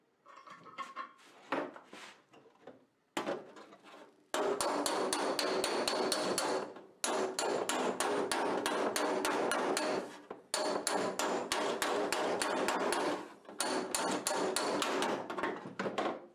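Metal body panel of a 1913 Ford Model T touring car being hammered, with long runs of rapid, evenly spaced ringing strikes, loud and close, broken by short pauses and no talking.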